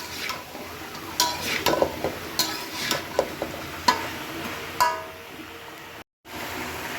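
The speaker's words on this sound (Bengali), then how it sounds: "এখন সবজিগুলো দিয়ে একটু কষায় নেব" Washed mixed vegetables being stir-fried in a pan, soft sizzling under repeated sharp clanks and scrapes of a spatula against the pan, irregular strokes, ending in a brief silence.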